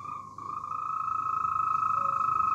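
A toad gives a sustained, steady musical trill rather than a croak, a continuous pulsing call heard close and clear throughout.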